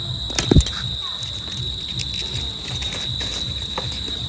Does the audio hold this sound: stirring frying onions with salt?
no